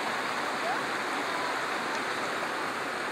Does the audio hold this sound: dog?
no